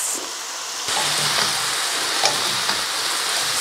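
Chicken chow mein with vegetables fries in a pan with a steady, close sizzle and hiss. A few faint stirring clatters sound over it, and no one speaks.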